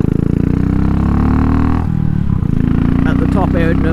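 A Classic 500 motorcycle with a custom fuel map, its engine droning loud and close at high revs on the highway, with a brief dip midway and wind roar throughout.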